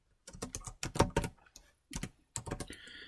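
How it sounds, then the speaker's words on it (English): Typing on a computer keyboard: several bursts of quick, close key taps with short pauses between them, no voices. "You can type in your name."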